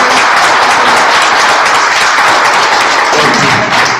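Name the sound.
audience applause for poet Amy Alvarez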